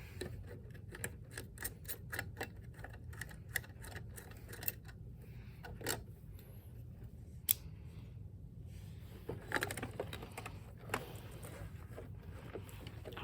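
Hot glue being scraped off a breaker box switch: a quiet run of short, sharp scratching and clicking strokes, irregular and close, with a steady low hum underneath and no talking.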